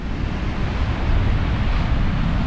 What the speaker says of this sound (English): You can see them waves. They might not look big, but they are the biggest waves I've seen.